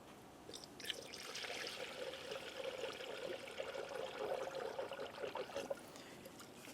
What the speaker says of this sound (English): continue filling the cooling system until you see no more air bubbles making their way out of your funnel